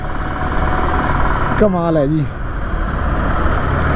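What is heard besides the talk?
traffic jam in Ludhiana heard from a motorbike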